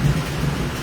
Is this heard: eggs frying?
no